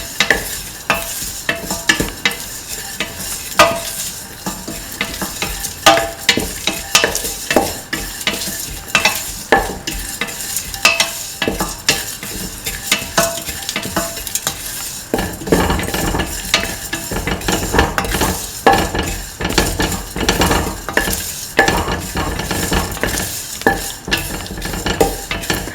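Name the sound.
stirring and frying the soup mixture in a pan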